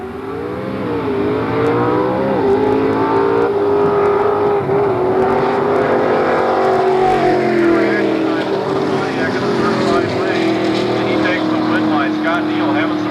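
1991 Pontiac Firebird called the Tin Indian drag racing in Super Street class at Scribner, a loud sustained engine roar with rising and shifting pitch, heard under a track announcer's voice.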